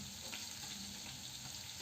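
Chopped onion frying in hot oil in a wok with a whole dried red chilli and cumin seeds, a steady dense sizzle with faint stirring, close and continuous with no voices.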